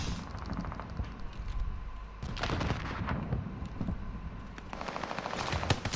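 Rapid automatic gunfire bursts in Call of Duty Vanguard multiplayer on the Champion Hill map, loud and close, with dense rattling volleys and sharper shots.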